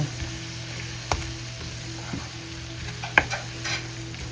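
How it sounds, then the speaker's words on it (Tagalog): Silverfish being sautéed in a frying pan, with a soft, steady sizzle and a few sharp clinks of a utensil against the pan, quiet and close. "Gisa lang yung dulong."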